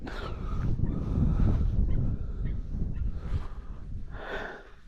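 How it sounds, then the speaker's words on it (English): A young dog on a ferreting outing, worked up after a bolted animal escapes it, snorts, huffs and whimpers in quick, agitated bursts close by, with no clear speech. "pup goes mad because he can't catch him."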